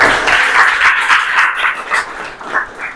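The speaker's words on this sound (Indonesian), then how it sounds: "Oke, kasih tepuk tangan dong." A small audience claps for about three seconds in uneven, pulsing bursts that thin out toward the end, with no voices over the applause.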